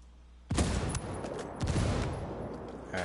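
Gunfire in the video game Ghost Recon Wildlands: an explosion bursts in loud and near, then a dense rattle of rapid shots and echoing blasts follows without letup.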